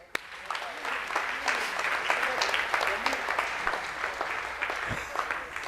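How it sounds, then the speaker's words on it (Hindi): An audience breaks into hearty applause at a talk on laughter, a dense, sustained wash of clapping from many hands that begins sharply and carries on at an even level. "भाई, जोरदार ताली।"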